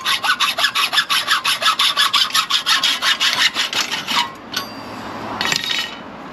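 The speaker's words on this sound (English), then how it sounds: "get your hacksaw, mark where you need to thread to, then you can cut it." A hacksaw cuts through metal electrical conduit held in a vise for outdoor lighting, making about twenty quick, even back-and-forth rasping strokes up close, then stopping with a faint clink and a short scrape.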